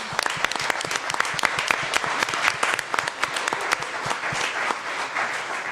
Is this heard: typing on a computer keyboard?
no